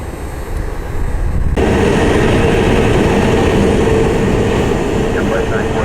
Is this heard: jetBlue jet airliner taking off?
yes